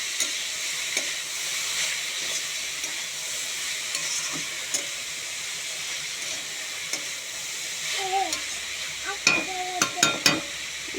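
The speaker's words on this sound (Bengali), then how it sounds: "এটাকে ভালো করে নাড়তে হবে যাতে জলটা মরে যায়" Talkuchi greens frying in a pan with salt, stirred steadily: a continuous close sizzle and hiss with scattered scrapes and clinks of the utensil, growing busier near the end.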